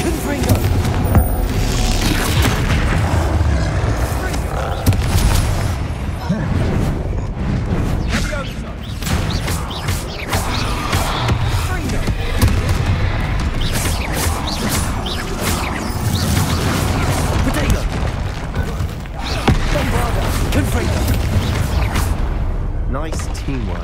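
Bombarda and Confringo spell blasts go off in the Hogwarts Legacy video game during a troll fight, loud booms and crashes layered with whooshes that continue densely throughout, with voices shouting over the battle.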